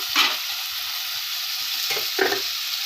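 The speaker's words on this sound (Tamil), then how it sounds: "இப்போ நல்லா வதங்கட்டும்" Vegetables and coriander stems sautéing in a pan for veg pasta, a continuous close sizzle with a few louder bursts of stirring scrapes.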